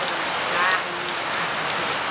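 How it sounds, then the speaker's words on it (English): Steady rain falls on surfaces outdoors, a dense, even hiss of drops pattering continuously at close range without any voices. "it's been raining for about an hour."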